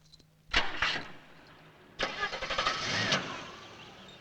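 A car engine cranks in two attempts, a short sputtering burst followed by a longer rough, coughing start that keeps running unevenly, heard up close.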